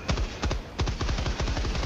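Rapid bursts of automatic gunfire from a gun in the game Helldivers 2, close and loud, a few short volleys running into a steady stream of shots.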